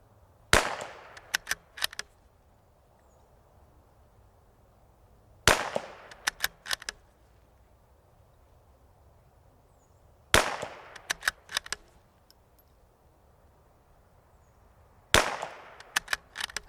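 Rifle shots from a Ruger Precision Rifle with a lapped barrel ring out one at a time, four sharp cracks spaced about five seconds apart, each followed by a brief rattle of echoes and handling noise.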